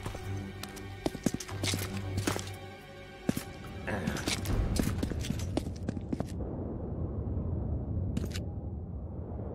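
Roach, the horse from The Witcher 2, trots up with brisk clip-clopping hoofbeats that grow heavier and rumble to a stop, over a game soundscape.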